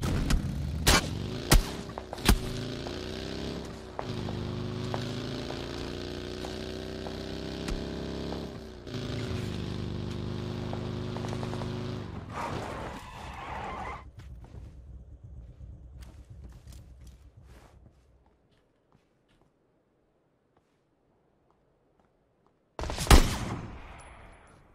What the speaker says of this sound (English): Someone else shooting me too.